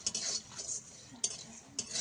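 Whole spices such as cardamom are stirred as they fry in a pan, heard as a few quiet scraping and clinking strokes of a utensil against metal, spaced irregularly over a faint sizzle.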